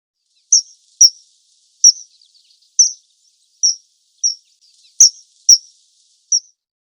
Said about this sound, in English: kingfisher